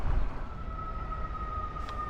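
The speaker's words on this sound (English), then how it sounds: "That siren is still going this way." A steady emergency siren tone sounds at a distance over low traffic rumble, holding a single pitch with a brief rise near the end.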